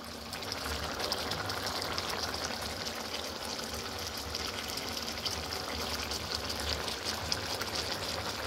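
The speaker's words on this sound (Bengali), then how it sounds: "তো এটা দেখতে পাচ্ছো টকবক করে ফুটতে শুরু করেছে" Potol (pointed gourd) curry with cashew, green chilli and chopped coriander leaves bubbling as it boils in a pan, a steady dense simmering fizz and crackle that continues without pause and without talk.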